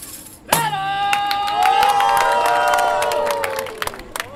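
A crowd roars and cheers for a fighter nicknamed the Dragon of Macapá between rounds of a bout, a loud sustained wall of shouting voices with whistles and high yells rising and fading.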